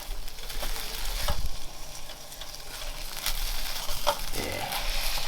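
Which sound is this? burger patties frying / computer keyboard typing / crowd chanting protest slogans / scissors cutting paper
burger patties frying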